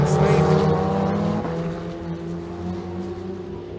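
Ferrari 488 Challenge race cars at Imola's Autodromo, engines roaring loud and close with a steady high-revving drone that shifts pitch midway as the cars pass, continuous throughout.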